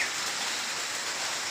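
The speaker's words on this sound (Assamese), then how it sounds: "বৰষুণটো আকৌ আহিছে, আকৌ ৰখি থাকিব লাগিব আমি।" Steady monsoon rain falls outdoors with an even, dense hiss, close and unbroken, with no voices.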